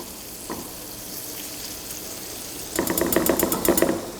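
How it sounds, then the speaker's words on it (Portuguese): Bacon sizzles and crackles in a pan, a faint tap first and then a louder, dense frying patter that swells near the end. "Vamos iniciar aqui a cocção do bacon. Vamos refogar até ele ficar com uma coloração levemente dourada."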